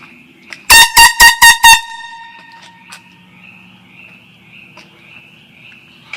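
Five quick, very loud air horn blasts sound in rapid succession up close, followed by a quieter outdoor background with faint insect chirping and distant dogs.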